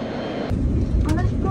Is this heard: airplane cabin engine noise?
yes